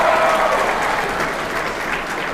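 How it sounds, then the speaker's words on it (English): Audience applause for a guest being introduced at a comedic live show, a dense steady wash of clapping from a crowd that holds at a fairly even level for the full two seconds without any voices. "Let's give a nice round of applause for Sir Rastin."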